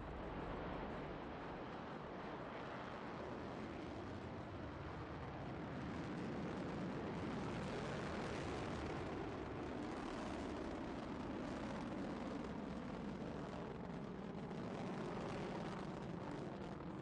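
Soyuz rocket launch carrying a capsule into orbit: a steady, loud, broadband roar that rumbles continuously throughout, swelling slightly in the middle with no voices.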